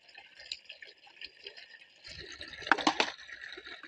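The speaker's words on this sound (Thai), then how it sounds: "บรรยากาศน้ำไหล" Water flows and splashes on a small one-rai mixed farm, a light trickling stream with soft drips that grows busier and louder near the end.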